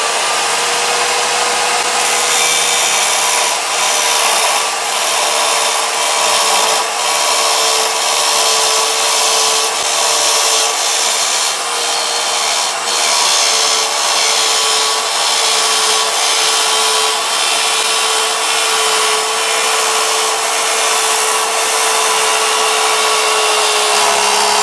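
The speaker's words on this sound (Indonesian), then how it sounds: "Ini besi ukuran 2x4 tebal 1 mm menggunakan mata gerinda merek Kentaro." Miter saw fitted with a 7-inch Kentaro cutting disc grinding through 2x4 iron tube 1 mm thick, a loud, sustained high-pitched shriek with a steady tone that runs unbroken for the whole stretch.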